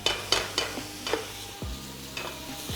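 Onion and garlic frying in a little sesame oil in a pot over medium-high heat, giving a soft steady crackle with several sharp scraping stirs of a utensil against the pot near the start.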